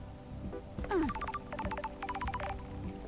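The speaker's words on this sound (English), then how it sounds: "I hear a phone ringing." A phone rings in the video game Paradise Killer, a faint electronic ring of quick trilling tone bursts repeating in short clusters at low volume.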